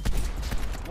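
Sniper rifle fire in Black Ops Cold War comes as several sharp, loud reports in quick succession, with game sounds mixed in.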